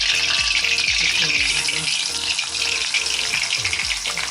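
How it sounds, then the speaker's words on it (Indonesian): Spice paste for nasi kebuli sizzles loudly in hot oil as it is stir-fried, with a steady hiss broken by regular clacks of a spatula stirring against the pan. "Aduk semua ya, kita tumis masak masak."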